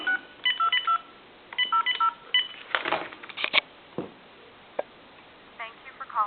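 DTMF touch-tone dialing on a Kellogg old wood wall crank telephone, with two bursts of quick beeping keypresses followed by a few scattered clicks and tones as the call connects.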